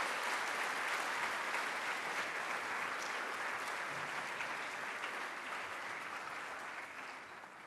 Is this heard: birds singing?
no